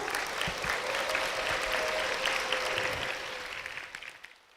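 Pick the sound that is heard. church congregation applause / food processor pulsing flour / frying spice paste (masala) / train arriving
church congregation applause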